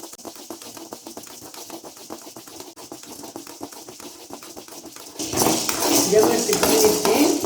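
Large sago pearls roasting in a pan, stirred with a metal spoon, giving close, busy scraping and rattling that grows louder and denser toward the end.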